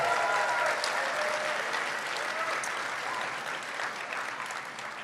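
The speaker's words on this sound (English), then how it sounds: "So a big round of applause for the class of 2026." An audience applauds the graduating class of 2026 at a secondary school graduation held indoors, a dense, steady wash of many hands clapping that fades slightly toward the end.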